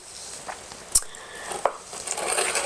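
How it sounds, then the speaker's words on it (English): A knife pressed down through chocolate chip biscotti at a slant, giving a few soft crunching cuts and sharp taps against the board, close and quiet with no talking. "So I'm going to cut, and I'm just kind of pressing it down."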